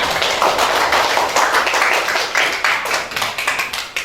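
A class of primary school pupils clapping together in a classroom, a dense, steady patter of many hands lasting throughout and fading slightly toward the end.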